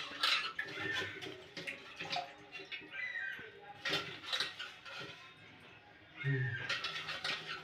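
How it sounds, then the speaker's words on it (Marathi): Water is poured into a cooking pot while a spicy creek-prawn curry is made, with splashing, pot and utensil clatter and bursts of running water close by. "पाणी टाकते"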